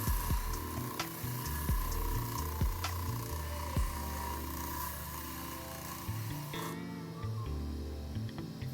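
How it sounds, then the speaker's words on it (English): A blue tourmaline specimen is ground flat on a 6-inch diamond-sintered flat lap mounted on a cabbing machine: a steady motor whir with a gritty scraping hiss and a few soft knocks, and the tone shifts near the end. "To fix the angle, I used a 6-inch diamond-sintered flat lap attached to my cabbing machine."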